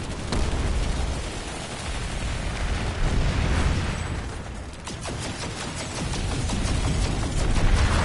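Grenade explosions in a video game, a dense run of loud booms and bursts with crackling debris, rolling on for several seconds without talk.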